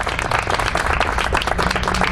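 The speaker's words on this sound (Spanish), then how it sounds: "pido un fuerte aplauso para todos ustedes por este glorioso primer año." Lecture-hall audience bursts into loud, dense applause, a continuous close wash of many hands clapping with no talk over it, lasting about two seconds.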